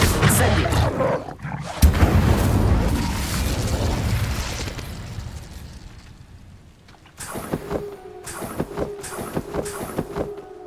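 An Incendio fire spell is cast in Hogwarts Legacy, a roaring whoosh of flame with booming bursts that fades away, followed by sharp rhythmic clicks of combat effects.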